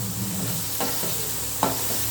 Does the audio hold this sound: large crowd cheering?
no